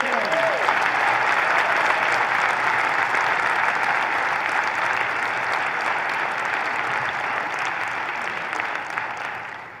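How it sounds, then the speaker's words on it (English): Steady, dense audience applause from a school district gathering fills the room at a constant loud level, tapering slightly near the end, with no speech over it. "how about another round of applause for our Cardinal swing?"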